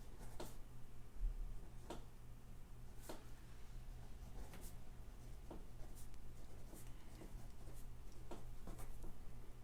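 Pen looping across a sketch pad in a doodling session, a soft scratchy writing sound with repeated light strokes and taps in a steady rhythm, close and quiet over a low steady hum.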